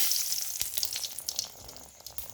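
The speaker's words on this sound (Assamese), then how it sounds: "মই গোটা জিৰা আৰু শুকান জলকীয়াখিনি ক'লা পৰাকৈ ভাজি ল'ম।" Whole cumin seeds and dried red chillies fry in hot oil in a pressure cooker for a red lentil khichuri. The sizzle is soft and steady, with faint crackles and no voices.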